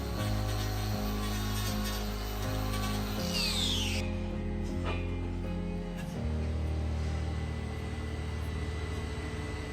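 Handheld grinder trimming a cow's hoof, a steady whining motor with shifting pitch as it bites into the horn, loud and continuous, briefly changing tone midway.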